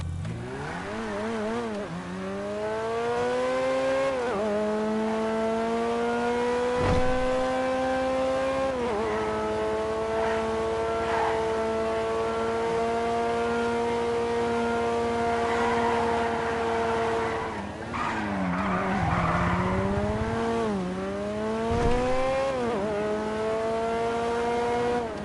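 A car in the GTA video game accelerating through its gears, engine whining up and shifting repeatedly, with a brief tire skid near the end, steady and close, no voices.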